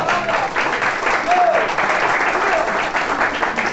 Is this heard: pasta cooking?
no